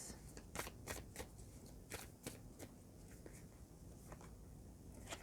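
Animal spirit cards being shuffled and handled at close range: a quiet run of crisp flicks and riffles, several sharp snaps in the first half, then softer, sparser rustles, with no voice over them.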